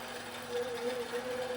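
A computerized sewing machine quilting an open pattern hums with a steady motor whine and a fast, even stitching rhythm, close and moderately quiet, with no voices.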